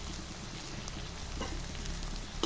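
Spices, meat masala and garam masala, sizzling in a hot pan while cooking jackfruit, a steady close hiss of frying with a faint stir partway through.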